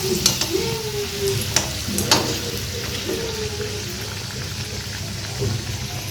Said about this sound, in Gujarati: એક બાજુ કચોરી તળાય છે